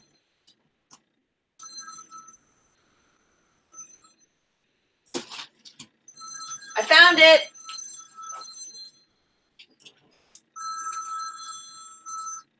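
A phone ringing indoors in short bursts of bright, tinny tones that repeat across the stretch, with people talking and a brief clatter in between.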